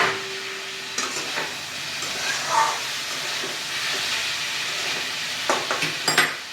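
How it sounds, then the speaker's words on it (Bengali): Fried prawns stirred into a spice masala that has cooked down until the oil separates, for a taro-stem (gaathi kochu) curry. A steady sizzling hiss fills the pan, with a few scraping stirs near the start and a cluster at the end. "এই পর্যায়ে আমি চিংড়ি মাছ ভাজাগুলো এর মধ্যে দিয়ে দিলাম।"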